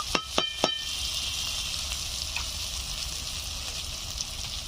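Chicken curry spices sizzle steadily in a hot pan with a constant frying hiss, opened by a few quick metallic taps of a spoon against the pan.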